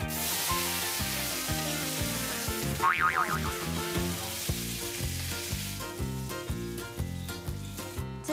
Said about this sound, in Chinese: 这个是我从 KL 拿回来的平底锅，是特地拿来煎蛋给你们吃的